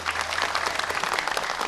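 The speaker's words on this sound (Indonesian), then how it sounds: "Tepuk tangan sekali lagi." Audience applause from a crowd at an evening community empowerment event in Pekalongan, dense steady clapping throughout with no talk over it.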